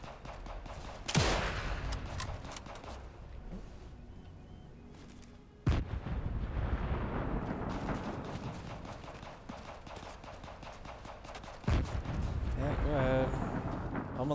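Enemy gunfire in Sniper Elite 5, with sharp shots and bursts at roughly 1, 5.7 and 11.7 seconds standing out over steady rumbling battle noise and game ambience.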